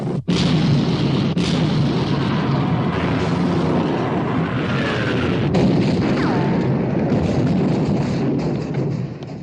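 Naval guns of warships firing in a battleship battle at sea, a dense continuous roar of booms and blasts, loud and sustained, with sharp bursts standing out over the din.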